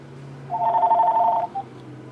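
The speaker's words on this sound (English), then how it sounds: "Phone's ringing on the hook today." A telephone rings once in a single steady electronic burst of about a second, clear and fairly close over a quiet room hum, followed by a brief short blip.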